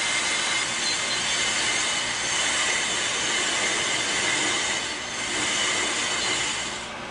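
A Pro Cut brake lathe machines a brake rotor, giving a steady, loud broadband grinding hiss with a high metallic whine, continuous for several seconds with slight swells and no talking.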